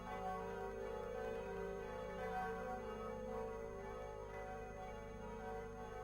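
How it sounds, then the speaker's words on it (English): Church bells of Notre Dame ringing in an animated Hunchback of Notre Dame film, a steady sustained peal of layered tones holding at even loudness throughout, with no talk. "the bells are ringing in your honor today"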